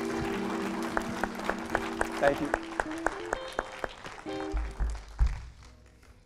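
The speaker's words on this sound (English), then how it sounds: "Can we give them one more hand clap?" A church congregation at a Sunday service claps over soft sustained music; the applause rises and thins with a few louder single claps, while a voice speaks briefly near the middle.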